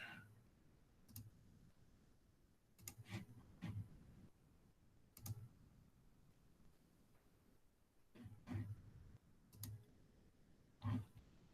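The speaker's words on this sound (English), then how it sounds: "Sorry, I'm clicking on the wrong thing here." Sparse computer mouse clicks while someone works in a virtual whiteboard tool online, arriving as isolated single and paired clicks with quiet gaps between them.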